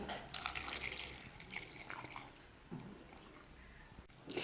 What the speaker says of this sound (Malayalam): ഇനി കുറച്ച് വെള്ളവും കൂടിയും ഒഴിച്ചതിന് ശേഷം നമുക്കിത് നന്നായിട്ടൊന്ന് അടിച്ചെടുക്കാം